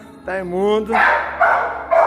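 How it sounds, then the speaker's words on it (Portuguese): A dog on bath day lets out a few sharp, close barks and yips in quick succession while a person speaks over them in Portuguese. "desculpa o cachorro, porque ele não para de latir"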